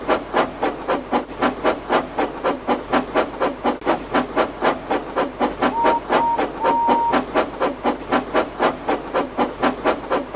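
An animated steam locomotive chuffs in a steady, rapid rhythm of hissing puffs, loud and close, with a brief whistle-like tone midway.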